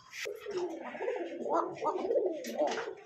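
A pair of red Basiraj pigeons coo close by in a run of soft, throaty, rolling calls that rise and fall over about three seconds.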